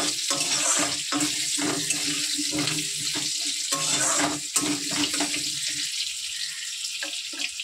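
Potatoes tipped into a hot pan of oil for frying set off a steady, loud sizzle and crackle. The hiss runs continuously with uneven bursts and spits throughout, and no one speaks.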